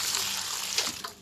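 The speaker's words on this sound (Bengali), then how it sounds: "এই যে পাতাগুলো ধুয়ে পরিষ্কার করে নিচ্ছি।" Bitter gourd leaves being washed under a running tap give a continuous close gush of water with some splashing over a little more than a second.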